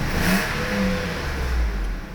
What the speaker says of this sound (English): It revs happily, so that's good.